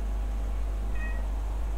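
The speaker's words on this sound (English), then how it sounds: "as soon as my cat meowed, mission decides to load" A pet cat gives one short, faint meow amid a loud steady low hum of background noise.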